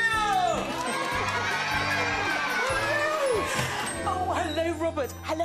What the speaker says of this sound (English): Give her a big cheer!